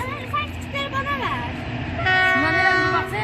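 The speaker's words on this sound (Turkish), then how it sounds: "Tren geçiyor." A passing train sounds its horn in sustained tones, with rumbling rail noise and chatter from people nearby in a Black Sea village; the horn grows louder near the end.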